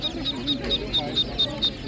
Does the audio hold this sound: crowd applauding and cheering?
no